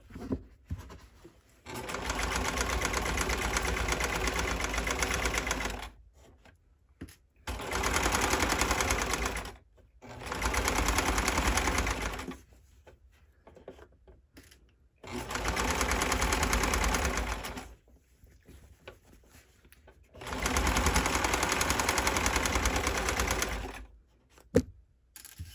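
A sewing machine stitching boxers at a small stitch length runs in five separate bursts of steady, rapid needle chatter, each lasting a few seconds, with quiet pauses between them and no talking.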